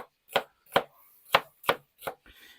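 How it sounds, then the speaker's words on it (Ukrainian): A knife chops a pepper into small pieces on a board, giving six sharp, evenly spaced thuds, each close and crisp against silence. "Перчину одну, вона дасть такий специфічний аромат, також поріжемо такими невеликими шматочками."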